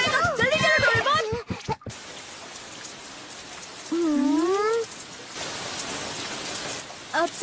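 Heavy cartoon rain falls as a steady hiss in a Doraemon episode. Animated voices and a few sound effects break in over the rain.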